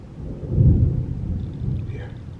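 Heavy rain with thunder rumbling close, a loud low swell building early and then rolling on as a steady roar, with no voices heard.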